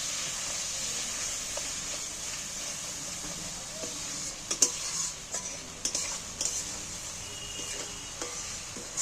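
A spoon stirs a paste of ground mustard and green chilli in a pan, scraping and clinking irregularly over a steady soft sizzle, with a few sharper knocks later on.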